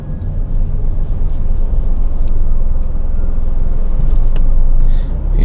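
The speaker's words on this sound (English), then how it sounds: "We've got quite a bit of traffic here this evening" Steady low rumble of cars passing on a Japanese countryside road in the evening, heard from inside a moving car, continuous and loud with no talk.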